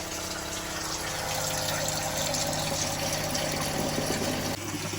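Toilet cistern refilling after the water supply is turned back on during a leak repair, a loud continuous rush and hiss of water that drops off abruptly near the end.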